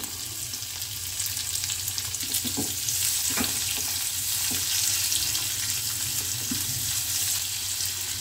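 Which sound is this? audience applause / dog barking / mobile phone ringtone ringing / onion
onion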